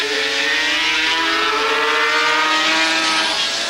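Honda NSR500 V4 two-stroke racing motorcycles at the 1984 Dutch TT circuit scream hard under acceleration, a high, continuous, rising wail heard at a distance with no talk over it.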